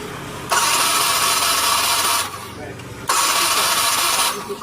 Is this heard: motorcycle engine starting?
yes